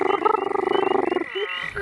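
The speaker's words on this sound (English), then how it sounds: "that's the southern toad" Southern toad giving a steady, loud trill on one pitch, with other frogs calling close by at night in eastern North Carolina wetland, breaking off near the end.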